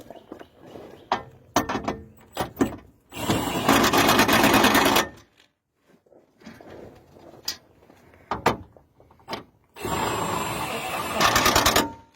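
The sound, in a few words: impact wrench snugging bolts during Silverado oil change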